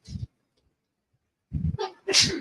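A single sharp sneeze close by, preceded by a brief intake of breath, followed by a short voice.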